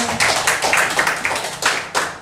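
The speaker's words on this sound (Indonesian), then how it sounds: "Tepuk tangan untuk kita semua." An audience at a teachers' dissemination session in a vocational school in Singaraja claps in a loose burst of separate hand claps, fairly close and lively, lasting about two seconds.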